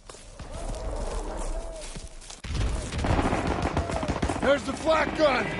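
Flak gun firing in Call of Duty WW2 amid battle, rapid repeated gunfire bursts, close and loud, over chaotic combat noise, growing denser in the second half.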